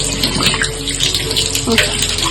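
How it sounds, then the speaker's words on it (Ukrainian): Orchid potting medium rinsed under a running tap until the water runs clear, a loud, steady rush of water with bark pieces shifting and clattering, a voice speaking over it. "Просто під водою промиваю і змиваю весь пил до чистої води."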